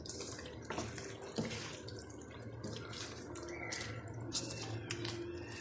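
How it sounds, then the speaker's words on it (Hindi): A cup of water poured into a pan of frying tinda masala, a soft continuous splashing and sizzling wash with faint clinks, heard quietly and up close without talk. "अब मैंने एक कप पानी डाल के टिंडों को पकने के लिए रख दिया है।"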